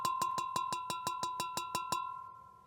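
A fired primitive Salado-style pottery jar, free of cracks, tapped about a dozen times in a steady rhythm, each strike giving a clear bright ring that rings on briefly and fades after the last tap; close and alone.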